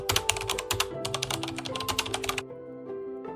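Rapid clattering keystrokes on a computer keyboard as a search is typed, a close, irregular burst of taps that stops suddenly, leaving near silence.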